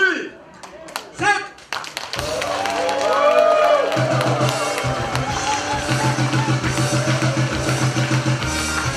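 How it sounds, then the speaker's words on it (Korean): Clapping and cheering break out at a Korean prosecutors-and-police mountaineering club's year-end party as a cake is cut, following a spoken countdown. The applause swells into a steady, rhythmic clap under music and voices. "케이크를 자를 때 큰 박수와 환호를 부탁드리겠습니다"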